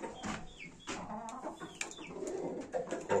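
Hens cluck and murmur near a rooster, a lively stream of close bird calls with coo-like notes continuing throughout.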